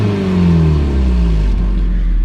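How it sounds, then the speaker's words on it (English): A car engine revs loudly nearby, its pitch sliding down as it settles, with a rough, chuffing rasp from a leaking exhaust. "it definitely has an exhaust leak because you can literally hear it like right here"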